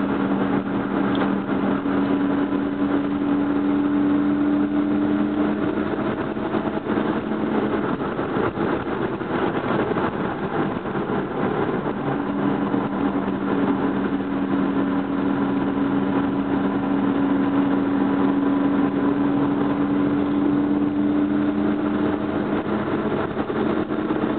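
A car engine hums steadily through a scenic drive in Cades Cove, a low, even drone with slight tonal shifts as speed changes, continuous and close throughout with no voices.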